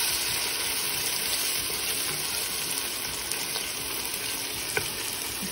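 Aloo keema with ginger-garlic paste sautéing in a pan, giving a steady, continuous sizzle and frying hiss throughout with faint stirring scrapes, close and fairly loud.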